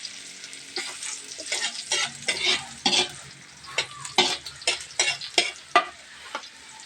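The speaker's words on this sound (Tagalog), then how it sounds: "Yan, magigisa na tayo." Onions sautéing in a pan for an adidas chicken feet dish, with steady sizzling and repeated scraping stir strokes from a utensil at close range, no voices.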